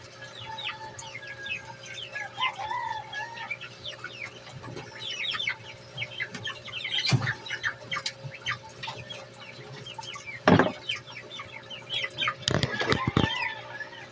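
Chickens cluck and chirp in a busy outdoor yard, with occasional wing flaps and thumps standing out against a constant background hum.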